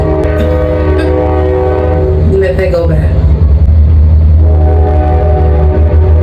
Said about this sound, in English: There go a train.